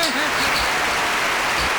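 Applause from a group in a room, a steady broadband wash of clapping that fills the whole moment at even loudness with no voice standing out.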